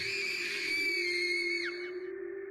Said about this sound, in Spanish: El grito de mi hija, junto con un gran estruendo, me hizo volver a la realidad.